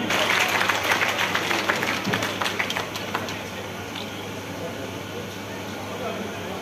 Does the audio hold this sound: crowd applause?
yes